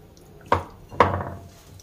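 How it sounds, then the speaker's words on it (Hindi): Chicken pieces dropped into a metal kadai for chicken shami kabab give two sharp metallic clunks about half a second apart, each ringing briefly against a quiet kitchen background. "मैंने सबसे पहले कड़ाही ले लिया है उसमें चिकन ऐड कर देंगे"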